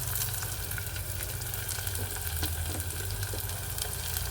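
Shallots and garlic hit hot oil for a Kerala mackerel curry, giving a steady, close, even frying sizzle with a broad hiss and no talk.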